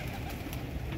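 A brief, soft low cooing of pigeons, faint and close, over a muffled background.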